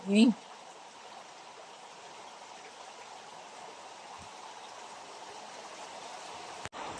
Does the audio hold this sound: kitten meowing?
no